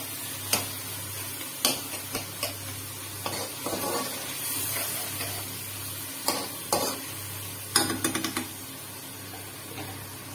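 Onion, tomato and spice masala frying in a pan, with a constant low sizzle under repeated scraping strokes of a spoon stirring in irregular bursts, close and fairly loud.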